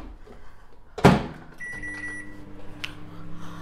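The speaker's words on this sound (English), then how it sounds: "Microwave this now." A microwave oven heats a dish of pasta: a sharp click or thud like the door shutting, then a steady low hum with faint tonal whine running alone, close by.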